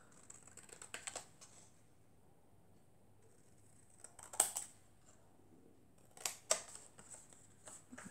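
Cardboard is cut for a chocolate box, heard as faint, close scissor snips and crisp cuts coming in short bursts between quiet pauses.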